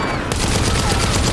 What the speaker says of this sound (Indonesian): Dia melancarkan tembakan kepada Yvette Barwell dan beberapa pria yang memegang senjata di